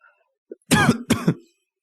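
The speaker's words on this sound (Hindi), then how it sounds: "मेरी तबीयत थोड़ी ख़राब है तो इसलिए खांसी बहुत ज़्यादा आ रही है" A couple of harsh coughs from a man who is unwell, close to the microphone, a short burst then a second one, with a tiny throat sound just before.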